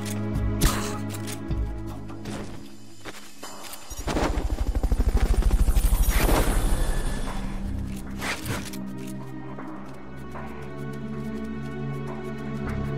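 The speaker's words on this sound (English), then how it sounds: "Fulton recovery subject confirmed onboard helicopter." Helicopter in Metal Gear Solid V during a Fulton recovery, its rotor chop swelling into a loud pulsing roar midway before fading back among scattered game clicks and effects.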